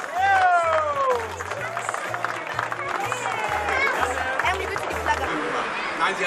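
A large crowd claps and cheers loudly, with a rhythmic thumping beat underneath and voices shouting through the applause.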